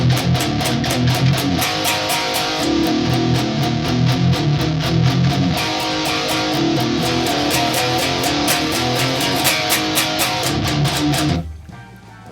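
Heavy distorted electric guitar plays a riff picked with an angled pick, loud and dense with fast rhythmic chugs and accents, cutting off abruptly near the end.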